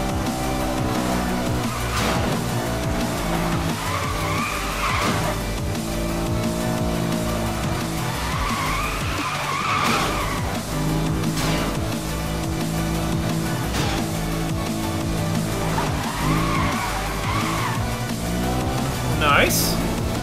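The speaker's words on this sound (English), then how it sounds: "Very nice sounding car as well." A BMW M3 Coupe races in Need for Speed: Most Wanted (2012), its steady engine drone running through the whole stretch alongside game sound, with brief tire squeals and skids at intervals.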